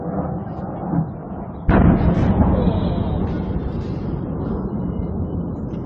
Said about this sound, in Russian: Дом шатается. Еще один взрыв.